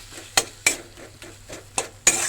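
Masala of tomato, turmeric, Kashmiri chilli powder and salt cooking in a pan, quiet sizzle broken by about six sharp scrapes and clinks of a spatula against the metal, close up with no talk.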